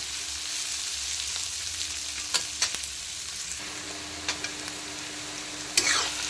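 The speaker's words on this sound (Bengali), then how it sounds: "সেরা কাঁচা লঙ্কা আর পেঁয়াজ কুচিটা আমি ভেজে নিয়েছি" Chopped onion and green chillies fry in oil, making a continuous close sizzle with a few light scraping stir clicks scattered through it and no voices.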